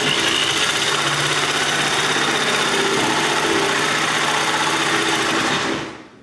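DeWalt DW331K jigsaw running at speed, a loud, steady buzzing motor with a rapid reciprocating rattle, held constant before cutting off and winding down at the end.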